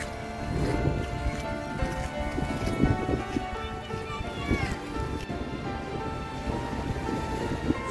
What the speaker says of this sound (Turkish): Zafer, deniz bayağı dalgalı.